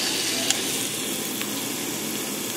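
Pieces of meat sear in a little hot oil at the bottom of a preheated pressure cooker, giving a steady, even sizzle and hiss with a couple of faint clicks.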